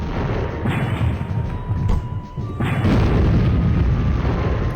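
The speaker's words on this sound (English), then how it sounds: "Hopefully you can actually hear me over those explosions." Deep booming explosions in the video game Storm Winds roll out in quick succession, loud and heavy with rumbling low-end bursts that swell and overlap, without talk.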